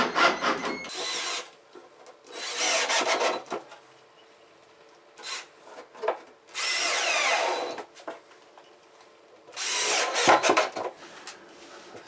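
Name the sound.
power drill driving screws into plywood box panel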